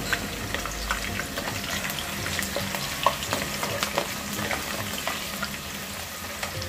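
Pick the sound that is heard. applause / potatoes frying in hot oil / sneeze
potatoes frying in hot oil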